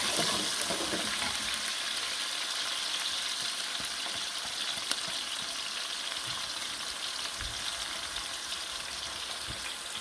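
Chopped onions sizzle steadily in hot oil for a chickpea pilaf, a close, continuous crackling fry with a few soft stirring taps and no talking.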